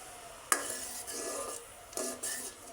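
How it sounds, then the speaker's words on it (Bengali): Date palm jaggery syrup bubbling in a pan is stirred with a utensil, producing a few distinct scraping strokes and soft sizzling bursts over a quiet background, close by with no talking. "জাল করে নিতে হবে নেড়ে নেড়ে, যাতে নিচে লেগে না যায়।"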